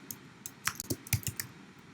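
Typing on a computer keyboard, a short quick burst of about a dozen crisp key clicks, close and clear with no talk.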